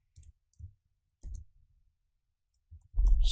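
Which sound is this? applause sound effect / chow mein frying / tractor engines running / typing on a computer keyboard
typing on a computer keyboard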